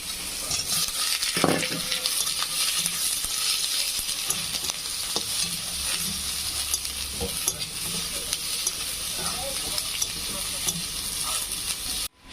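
Onion, green chili and capsicum frying in a pan for chili paneer, a steady loud sizzle with occasional stirring scrapes running unbroken for about twelve seconds, no voices.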